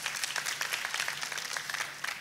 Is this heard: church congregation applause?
yes